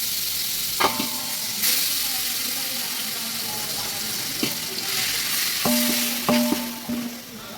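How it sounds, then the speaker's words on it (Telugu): Marinated chicken for dum biryani fries in two tablespoons of oil in a heavy pot, a loud steady sizzle broken by a few sharp metal clinks and scrapes of stirring. "బాగా మ్యారినేట్ అయిన చికెన్ని ఫ్రై చేసుకుందామండి"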